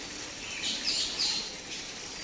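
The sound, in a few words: birds chirping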